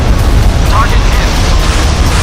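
A missile explosion strikes a target in the naval combat game Modern Warships, a dense rumbling boom that fills the short moment with low-end roar and no distinct separate hits.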